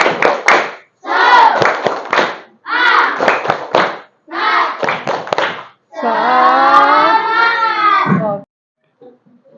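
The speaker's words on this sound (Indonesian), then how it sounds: "Tepuk semangat biar nanti belajarnya tambah semangat." An Indonesian classroom performs the 'tepuk semangat' clapping chant icebreaker: children's voices chant in four rhythmic bursts punctuated by sharp hand claps, then finish with a sustained shout, close and loud.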